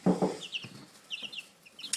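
Aggressive 4-H chickens cluck in short, scattered bursts, with a couple of louder low clucks up front followed by higher squawking calls, close by and with no voices.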